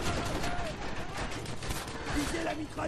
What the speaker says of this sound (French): Donc là je sais pas trop qui c'est qui me tire dessus.